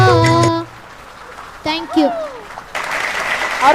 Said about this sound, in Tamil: மிகப்பெரிய கைதட்டல் கொடுத்துடலாம்.